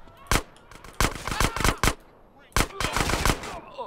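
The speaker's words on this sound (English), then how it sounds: "Take Uzi and let's smoke these bastards." Bursts of Uzi fire in GTA San Andreas, several short rapid volleys separated by brief pauses, loud and close, with faint talk underneath.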